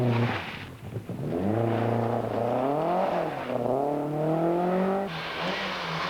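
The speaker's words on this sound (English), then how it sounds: "After much engine revving and tyre squealing, the car finally found traction again" A 1992 rally car in the Mitsubishi Classic Marathon revs hard while its tyres squeal for grip, the engine note climbing and dipping in long sweeps, fairly distant and steady for several seconds.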